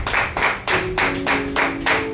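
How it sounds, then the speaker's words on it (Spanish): Church congregation clapping in unison, a loud rhythmic series of about seven evenly spaced claps with faint sustained tones from instruments underneath. "Denle un fuerte aplauso al Señor"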